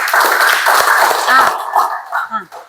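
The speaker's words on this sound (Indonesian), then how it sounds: "kita tepuk tangan buat Putri" A class claps briefly for Putri, a short burst of clapping mixed with voices that fades out near the end.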